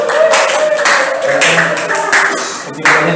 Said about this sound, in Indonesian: kita berikan tepuk tangan untuk kelompok 3